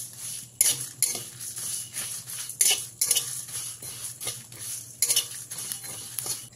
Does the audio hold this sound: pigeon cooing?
no